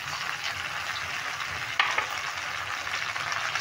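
Garlic, chilli and ginger paste frying in a pan for a curry gives a steady, close hiss and sizzle throughout, with one brief clatter partway through and no voices.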